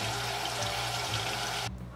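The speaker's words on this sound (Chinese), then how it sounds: "下锅后我们就用凉水冲" Cold tap water gushes steadily over a hot steamed liangpi pan, a dense, even rush of running water that stops abruptly near the end.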